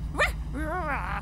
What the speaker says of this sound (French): C'est le chien.